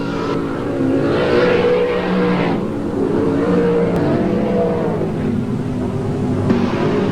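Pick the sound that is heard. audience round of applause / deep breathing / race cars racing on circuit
race cars racing on circuit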